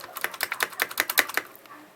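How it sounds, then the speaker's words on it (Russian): Hator Starfall HTK-608 budget mechanical keyboard with Outemu red switches being typed on, a short run of about a dozen crisp, close clacks in quick succession, fading out at the end. "для сравнения, звук на"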